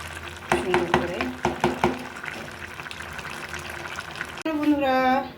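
Fried rohu fish head being stirred in a pan, with scraping, clattering stirs and a steady sizzle throughout, then a brief pause before a louder hissing burst near the end, with a voice in the background.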